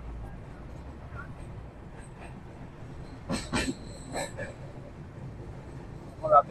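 The Kolkata Sairang Express crossing the Farakka bridge at night, heard from inside a carriage as a steady low rumble with a few brief metallic clanks and squeals rising over it, moderately quiet and with no talk.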